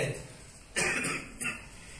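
Two short coughs close to the microphone, the first stronger and the second a little softer, over a faint room hum.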